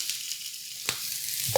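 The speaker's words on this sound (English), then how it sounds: "we're gonna saute, stir fry these until they're crisp tender" Sliced zucchini and garlic stir-frying in a hot pan for Thai drunken noodles, a bright steady sizzle with a couple of sharp utensil knocks, close and without speech.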